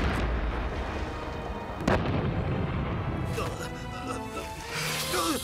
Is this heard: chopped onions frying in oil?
no